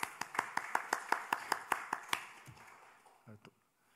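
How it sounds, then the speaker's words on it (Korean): A church congregation claps in slow, evenly spaced unison beats, about a dozen sharp claps at a steady rhythm, then it trails off into faint voices and quiet. "우리 남성들 박수 한번 해주시죠."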